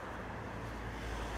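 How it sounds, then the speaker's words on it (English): Steady roadway rumble from cars driving past on a nearby road, a continuous broadband wash of traffic noise with some wind buffeting the phone microphone and no distinct single pass-by. "so lots of cars are driving by"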